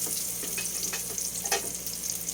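Onions frying in hot cooking oil in a pan for a mung bean dish, a steady close sizzle broken by a few soft stirring scrapes, with no talking.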